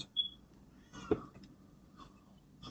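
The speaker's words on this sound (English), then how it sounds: "Don't mind my cat." A house cat gives a brief, fairly quiet meow in a calm room, with a few faint background noises around it.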